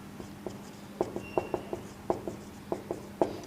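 Chalk-like strokes on a board during a lecture, a run of sharp, quick taps and short scrapes in an uneven rhythm, close and clear with no talking.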